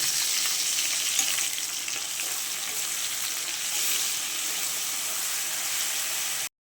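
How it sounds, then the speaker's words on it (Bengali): Chopped chicken fries with onion, garlic and green chilli paste, giving a loud steady hissing sizzle that holds evenly before cutting off abruptly. "মাংস কুচিগুলো দিয়ে দিলাম, দিয়ে দিচ্ছি একটা পেঁয়াজ, রসুন, পেঁয়াজ, কাঁচা লঙ্কা বাটা দিয়ে দিলাম"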